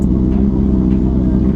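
A Ducati Panigale V4S motorcycle's V4 engine idles after a cold start with a loud, steady, deep rumble close by, a brief startup blip at the beginning and no talking.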